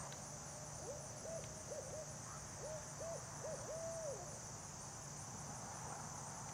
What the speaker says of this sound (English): just heard a bard owl